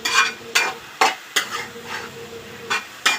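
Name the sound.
sautéing shepu greens in oil with dal, onion, garlic, chili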